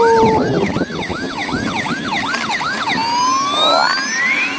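Toy ambulance siren, a rapid wailing yelp cycling up and down about eight times, then shifting to longer rising sweeps, loud and close with no voices.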